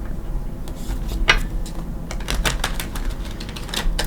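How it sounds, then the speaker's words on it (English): A deck of tarot cards is shuffled by hand nearby, giving dense runs of crisp flicking and riffling clicks in quick irregular bursts, with no talking over them. "I am going to shuffle."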